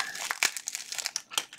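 A taped-up AliExpress mail package is torn open, giving bursts of loud close crinkling and crumpling of plastic wrapping with short tearing rips.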